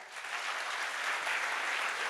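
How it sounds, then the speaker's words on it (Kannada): Children's applause for two teams fills the room in a short, even wash of clapping, steady and moderately distant, with no talking over it. "ಹೋಗಿ ಇವರಿಗೆ 2 ತಂಡಕ್ಕೂ ಜೋರಾದ ಚಪ್ಪಾಳೆ"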